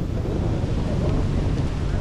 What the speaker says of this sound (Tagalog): May alon pala dito, oh. Akala ko sa atin lang may alon. Lalaki din pala ng alon